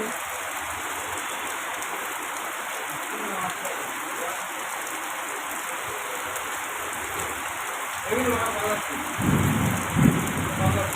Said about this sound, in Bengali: দেখুন গাইজ বৃষ্টি হচ্ছে